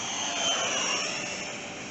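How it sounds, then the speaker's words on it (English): A Flex Innovations F-100D radio-controlled jet on a 6S battery flies past with a steady, airy ducted-fan whoosh, fairly loud and even, swelling slightly and then easing off as it moves through the sky. "this thing is a sweet flying jet"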